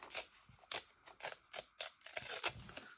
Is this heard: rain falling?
no